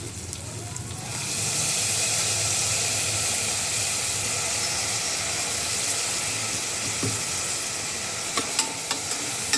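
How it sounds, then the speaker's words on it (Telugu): Steady, close sizzling of oil frying in a pan while cooking mutton curry, a continuous hiss starting after a quiet second, with light stirring clicks near the end. "కొంచెం నూనెలా వేగాలి, పచ్చి వాసన పోతుంది"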